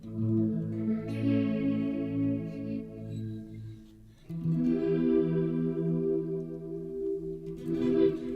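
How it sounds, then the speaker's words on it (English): A PD Space guitar synthesizer plays sustained, layered notes with modulation, delay and detune switched on. The shimmering, chorused tones ring out loud and alone in two long phrases separated by a brief dip. "Let's go and switch the modulation and delay back on,"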